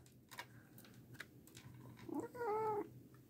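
A single faint cat meow rises near the end, after some quiet ticks and rustling noises in a hushed room.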